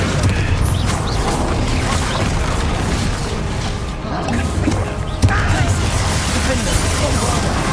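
Confringo fire-blast spells in Hogwarts Legacy during a battle with Professor Sharp present: dense, continuous combat noise with repeated booming blasts and crackling bursts, one sharper explosion near the end, mixed with other spell effects.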